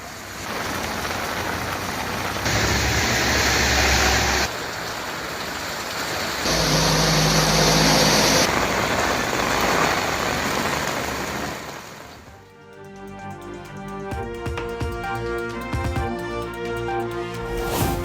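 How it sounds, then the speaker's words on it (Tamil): Heavy night rain hisses steadily with road traffic on the Porur–Ramapuram main road in Chennai during a dense traffic jam, a loud continuous wash that gives way to music partway through. "சென்னையில் இரவில் பெய்த கனமழையால் போரூர், ராமாபுரம் பிரதான சாலையில் கடும் போக்குவரத்து நெரிசல்."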